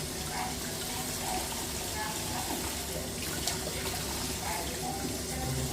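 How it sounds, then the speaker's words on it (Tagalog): Fish rinsed under a running kitchen tap, a steady close rush of water splashing with faint handling noises throughout. "Huhugasan ko na guys ng isda."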